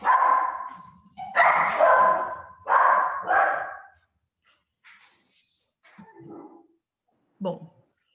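A dog barks nearby in a burst of four loud, rough barks, followed by a few fainter yips and whimpers spaced out over several seconds.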